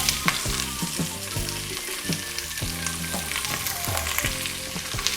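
Onion, carrot, celery and asparagus stalks sizzle steadily as they toast in a pan for a risotto stock, with repeated stirring scrapes and clatters over a continuous close frying hiss and no talking.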